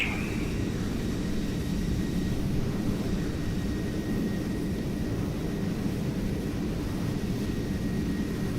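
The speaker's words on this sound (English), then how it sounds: "takeoff checklist complete, and let's take off" F-14 Tomcat jet rolling for takeoff in Microsoft Flight Simulator, a steady loud engine roar and rumble holding constant throughout with a faint high whine above it.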